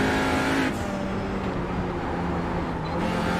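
TCR race car at night on the Nordschleife, engine note dropping briefly on a small lift, then pulling back under throttle with a loud, steady, buzzing drone close to the car.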